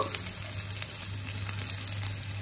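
Garlic pieces fry in a spoon of oil and a spoon of ghee in a kadai, giving a steady close sizzle with small crackling pops and no talk.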